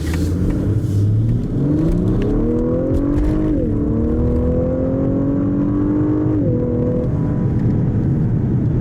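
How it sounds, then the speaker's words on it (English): A 2019 Lexus LS 500 F Sport engine revs up loudly from inside the cabin in Sport Plus mode, pitch climbing through gear changes with brief dips as it accelerates hard. "So I'll do an acceleration now in the Sport Plus mode"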